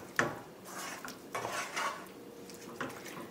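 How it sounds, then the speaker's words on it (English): A spoon scrapes and clinks against a pot while salt is stirred into fire-roasted tomato sauce, giving several irregular metallic taps and soft sloshing strokes, close and moderately quiet. "go ahead and mix up a little bit more salt in here."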